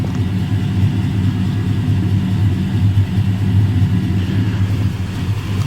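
Lifted Chevrolet Silverado with a 5.3L V8 idling steadily outdoors in the early morning, a close, even low rumble with a constant throb and no talk.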